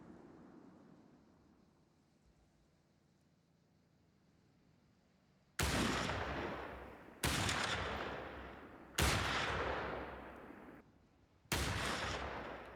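Sniper rifle shots in Company of Heroes 3 crack out four times at a slow, steady rate, each loud report followed by a decaying tail, over a quiet battlefield ambience.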